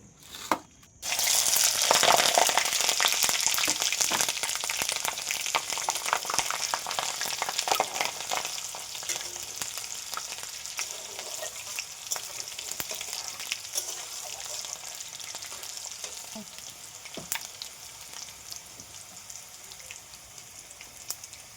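Green and dried chillies with panch phoron tempering in hot oil for a Bengali sweet-sour mango pickle, a steady loud crackling sizzle that starts abruptly after a brief pause and continues alone throughout.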